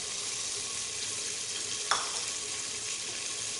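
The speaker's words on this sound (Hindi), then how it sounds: "और इसको अच्छे तरीके से भून लेंगे।" Red chilies, turmeric and salt frying in a pan for katwa meat, a steady close sizzle with one brief louder crackle partway through, no talk.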